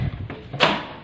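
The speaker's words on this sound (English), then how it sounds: "You need to swipe your card and then the door opens." A dormitory door at Weber State University opening after a card swipe, a short mechanical click followed by a brief scraping swish as the door swings, close and alone.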